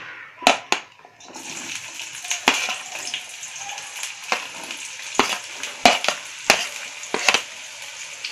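Onion dropped into oil heated over a medium flame for a boiled egg and potato masala: a continuous crackling sizzle punctuated by sharp spatters and pops, close and fairly loud.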